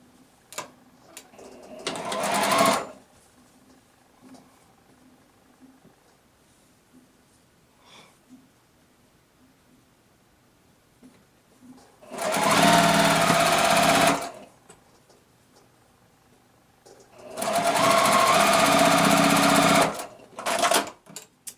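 A sewing machine stitches together two quilt block pieces for a beginner tree-pattern block in three separate bursts, a close, even buzzing rattle of about one to two seconds each, with quiet handling noises between runs.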